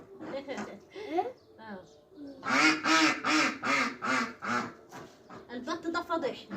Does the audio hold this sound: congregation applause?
no